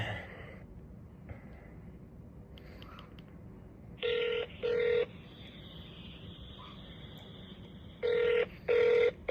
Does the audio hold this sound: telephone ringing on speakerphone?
yes